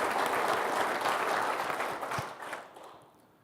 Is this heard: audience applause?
yes